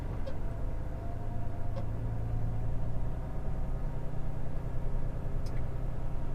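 A small MTD lawn tractor engine runs steadily after an upshift, a continuous low rumbling drone crawling along at close range with no pauses or voices.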